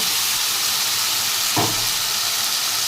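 Coarsely ground spice paste hitting hot oil in a pan, a loud continuous close sizzle and hiss with a brief thud as it drops in.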